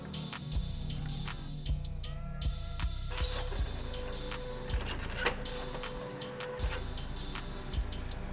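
An Epson inkjet printer (T1100, L1300 or L1800 class) with a paper-jam fault runs a paper feed test, its mechanism clicking and ticking in a steady rhythm over a continuous motor whir, close and alone.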